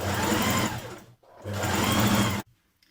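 A sewing machine stitches the side seams of a New Look 6871 blouse in two loud, steady runs of close whirring, about a second each, separated by a brief pause and ending abruptly.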